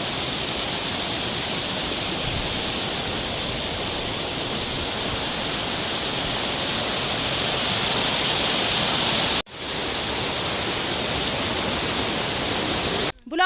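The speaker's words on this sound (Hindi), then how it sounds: "इस नाले को हमें ऐसे ही क्रॉस करना पड़ेगा।" A mountain stream in Sangla valley rushes loudly and steadily as broad, unbroken roaring water noise, close by and filling the whole scene, with a brief dropout near the end.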